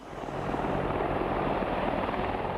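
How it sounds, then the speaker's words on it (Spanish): An Apache attack helicopter in Desert Storm combat footage, with a dense, steady rotor and engine roar that swells in over the first half second and holds loud and constant. "Quizás el destructor de tanques más temible fuese el helicóptero Apache."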